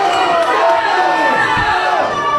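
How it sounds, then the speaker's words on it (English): A live crowd at an NWA Southern All-Star Wrestling homecoming show at the SAWMill roars and cheers steadily, a dense wash of many voices filling the space without any break. "And what a crowd here at the SAWMill tonight"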